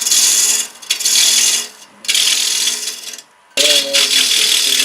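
A bowl gouge cuts wood on a lathe running slowly, giving three loud raspy scraping passes separated by short pauses, close and harsh.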